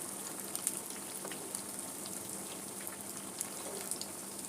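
Cabbage and egg pakora frying in a pan, a quiet steady bubbling sizzle of oil with faint crackles throughout, no talking.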